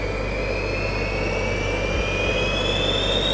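Five engines of a Gravity jet suit start from cold and spool up toward a roughly 30,000 RPM idle, a loud continuous turbine whine with steadily rising pitch that fills the space.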